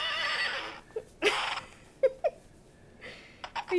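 A toy horse at a child's cowboy-themed birthday gives a bright, whinnying neigh for about a second, followed by short squeaky bursts and clicks, close and fairly loud in a quiet room.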